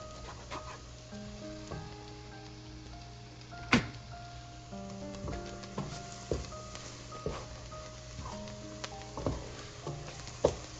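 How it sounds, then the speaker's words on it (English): A beef curry masala mixture fries in a pan with a soft, steady sizzle, while a spoon stirs and scrapes the pan bottom in uneven strokes, some sharper knocks standing out. "you keep stirring the mixture properly"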